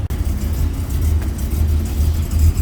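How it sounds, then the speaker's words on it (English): A 1975 Jaguar XJ Coupe with an LS V8 engine rumbles loudly and continuously, a deep throaty drone close by, holding steady with slight swells. "I think it's got a V8 in it. I think it's got an LS engine"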